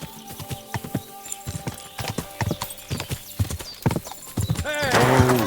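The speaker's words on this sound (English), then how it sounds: "Horse nearly trampled me." Horse hooves clip-clop in an uneven rhythm in the medieval video game Kingdom Come: Deliverance II, close and distinct, ending in a loud neigh and whinny.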